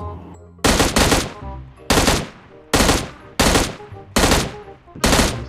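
Sharp, loud gunshots from an M416 rifle in PUBG Mobile, seven single cracks at roughly regular intervals with brief echoing tails, no talking between them.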